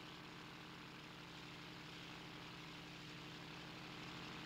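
An airplane engine in a Dragon Ball anime scene, a continuous droning propeller hum at steady loudness throughout, with no talking.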